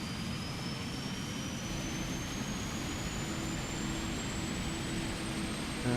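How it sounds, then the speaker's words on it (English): A PMDG 777-300ER engine spooling up in Microsoft Flight Simulator, heard from outside: a loud, steady jet roar with a rising whine that climbs throughout, no voices. "engine number 1 coming on now"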